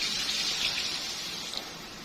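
Mutton stock (yakhni) is poured into hot biryani masala in a pot, producing a close, continuous rushing pour and sizzle that stays loud and even throughout.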